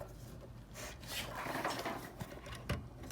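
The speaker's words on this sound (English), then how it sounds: "It's just one screw you take off." A single screw is turned out of a metal chassis, giving a brief, close scraping rub with a couple of sharper ticks near the end.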